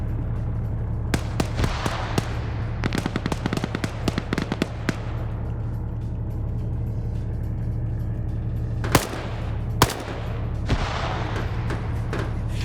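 PvP video game match with a rapid burst of gunfire early, then a long stretch of low rumble broken by a few louder blasts like grenade explosions, with no voices.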